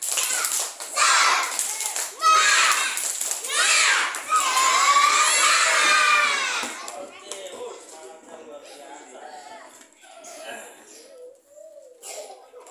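Groups of schoolchildren in an Indonesian classroom perform a spirit clap chant together, loud shouted chanting with rhythmic clapping for several seconds, then fading into scattered chatter and a teacher's voice.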